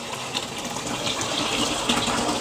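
Water from a hose tap rushes steadily through a small mini hydro turbine generator, a continuous close gushing hiss with no voices.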